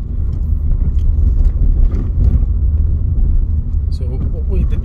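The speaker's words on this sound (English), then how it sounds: "That car's turning right along the road we came up first time out." A car drives along a road in Paisley, Scotland, its loud, steady engine and tyre rumble filling the whole stretch close by, with a person talking over it.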